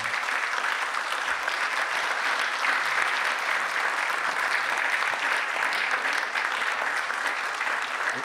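An audience applauds after a public talk on the situation of Indigenous peoples in Chile, with dense, even clapping from many hands holding at a steady loudness throughout, and no speech on top.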